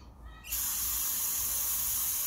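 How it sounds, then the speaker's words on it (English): Cleaner spray hisses hard and steady onto the mass air flow sensor of a BMW 320d E90 with an N47 engine. It bursts on after a short quiet moment and holds as a loud, close, continuous hiss. "So I've sprayed it from one side, just gonna spray it from other side now"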